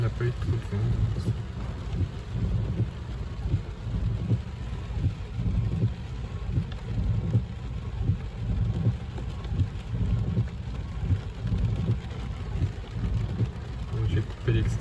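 Steady storm rain hisses and patters continuously, with deep rumbling underneath and faint voices mixed into the dense noise.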